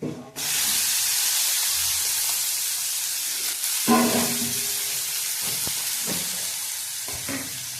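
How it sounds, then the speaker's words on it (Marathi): Ghevda bean pods dropped into hot oil with turmeric and ghati masala, a loud steady sizzle and hiss throughout, with a few clinks and scrapes of a spoon against the pan. "तेल गरम झाले, हळद, घाटी मसाला, घेवड्याच्या शेंगा,"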